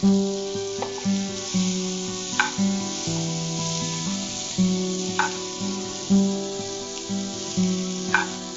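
Four cloves of garlic and finely chopped onion sizzle steadily in butter in a pan while making drumstick soup, a loud continuous frying hiss with a few sharp spikes, under a backing melody.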